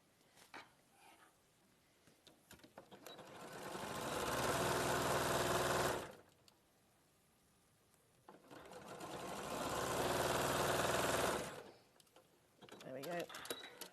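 A sewing machine stitches around a curved section in two sustained bursts of steady whirring, each several seconds long, separated by a quiet pause and followed by a shorter start.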